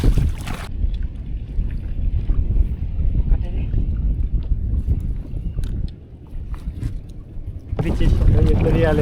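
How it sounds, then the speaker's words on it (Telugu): Engine of a fishing boat running at sea, a low churning rumble mixed with heavy wind buffeting and water noise, with someone talking over it. "తీసేసిన బోట్ స్టార్ట్ చేసేసాను మెల్లిగా"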